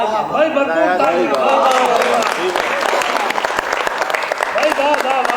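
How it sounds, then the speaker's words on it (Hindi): An audience at a Lahore mushaira claps in a loud, sustained burst of applause, overlapping with a voice speaking over it throughout. "भाई भरपूर ताली,"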